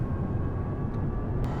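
Continuous jet-like whine and rumble from an electric car in BeamNG.drive, steady and fairly loud, with a brief high click near the end.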